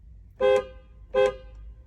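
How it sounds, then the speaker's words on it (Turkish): Two short, deep blasts of a deep-tone Tofaş car horn fitted to a 2006 Renault Kangoo, evenly spaced, loud and close against a low engine hum. "Kendi orijinal kornasının yanına kalın ton Tofaş kornası taktık bir tane."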